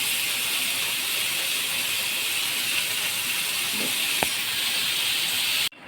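Kesari-marinated smoky chicken kebab sizzling as it fries in oil, a steady close hiss with one sharp crackle and no talking.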